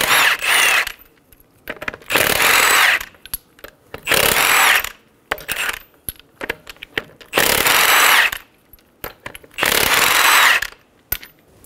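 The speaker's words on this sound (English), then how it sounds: "Using a 21 millimeter socket, remove the lug nuts." An impact tool removes the wheel lug nuts on a 2007–2011 Toyota Camry with a 21 mm socket, giving five loud, evenly spaced rattling bursts about a second long, with faint clinks between them.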